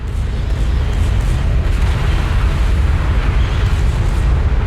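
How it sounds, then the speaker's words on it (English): A warship fires a full broadside in a naval video game, a loud, dense rumbling roar of cannon fire filling the whole stretch without pause. "And we get a full broadside on him."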